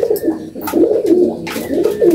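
An Andhra Kalanka pigeon held in the hand coos loudly and close, a series of deep throaty rolling coos repeating in a steady rhythm, with faint handling rustle and no talking.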